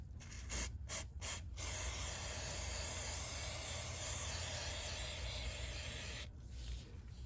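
Spray lube hisses onto a motorcycle chain in a few short bursts, then one long continuous spray of several seconds, close and fairly loud, with a quieter hiss near the end.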